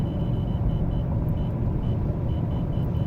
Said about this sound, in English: If you're wondering what that beeping is, it's my radar detector.